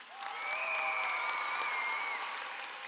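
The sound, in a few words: applause for graduates at commencement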